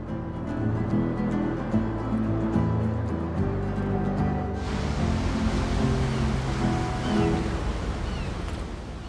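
Atlantic Ocean waves breaking along the west coast of Ireland, a steady broadband wash of surf that holds a constant, fairly loud level, with no voices.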